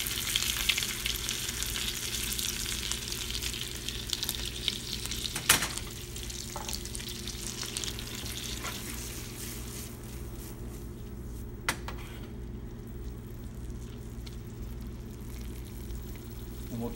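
Snapper sizzles in a pan with lemon juice and capers, a steady close frying hiss that runs throughout with a couple of sharp clinks of a utensil.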